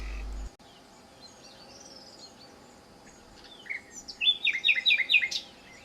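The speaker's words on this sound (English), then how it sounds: "Just listen to this nightingale singing in the background." A nightingale sings outdoors in Spain, quiet at first and then a bright burst of rapid repeated chirping notes toward the end, over a steady faint hum and no talking.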